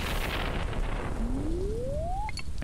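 Steady heavy rain pours through a nighttime thunderstorm in Stardew Valley, a broad continuous hiss with no voices; a thin rising whistle-like tone sweeps upward partway through, ending in a short chime.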